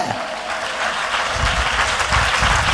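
A church congregation claps their hands together in praise during a Tamil Christian service, a dense, sustained burst of applause that swells louder toward the end.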